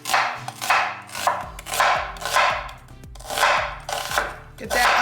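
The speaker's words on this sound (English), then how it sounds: "So we're going to thinly slice the onions." Onions being thinly sliced with a knife during home meal prep, heard as a series of repeated broadband cutting strokes with steady rhythm, close and moderately loud, while a voice talks faintly underneath.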